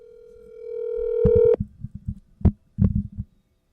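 Telephone call being placed: a steady dial tone that cuts off, then a quick run of short keypad or connection blips and clicks, close and clear with nobody speaking.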